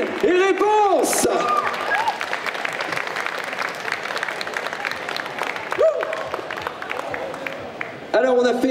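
A large audience at a Disney concert during a geek convention bursts into loud, sustained applause that fills the space from start to finish, with a host's voice and bits of music cutting through at the beginning and end.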